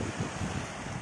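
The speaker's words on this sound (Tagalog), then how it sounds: "So medyo maalon sa gilid." Low-tide waves wash along the shoreline at a fishing spot, a steady close rush of surf blended with wind noise on the microphone, brief and fairly loud.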